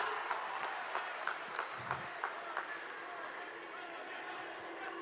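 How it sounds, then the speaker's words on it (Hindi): A crowd at a large public rally in Assam applauds to welcome the Prime Minister of India, steady distant clapping with some sharper claps, heard under a fainter announcer's voice. "तालियों की जोरदार गूंज के साथ स्वागत है भारत के माननीय प्रधानमंत्री श्री नरेंद्र मोदी जी का"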